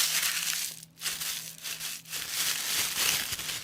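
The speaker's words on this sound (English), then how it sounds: "basically what you want to do with this tissue paper is just crumple it up" Tissue paper crumpled by hand for an art journal texture, a close, loud, continuous crackling and crinkling that rises and dips in bursts.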